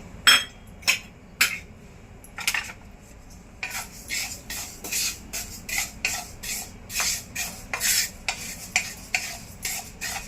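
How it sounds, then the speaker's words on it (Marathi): Fifty grams of sesame seeds dry-roasting in a pan over a low flame, stirred with a utensil that makes a series of quiet, rhythmic scraping strokes. The strokes come sparsely at first, then more quickly and steadily. "आता हे आपण तीळ भाजून घेऊया हे पन्नास ग्रॅम तीळ आहे"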